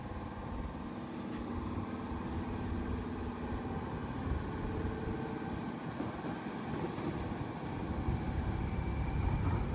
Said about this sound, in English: T68 and friend now departing platform 4 for a waterfall service.